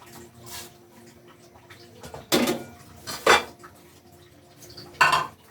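Green peas are stirred into arroz valenciana in a pot: a low background hum, then three loud, close scraping clatters of a spoon against the pot with pauses between them.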